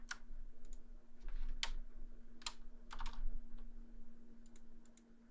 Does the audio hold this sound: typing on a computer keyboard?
yes